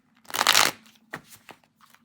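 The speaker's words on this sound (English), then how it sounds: "Shuffling up." Tarot cards being shuffled, one close, full riffling burst followed by a few softer taps and flicks as the deck is squared.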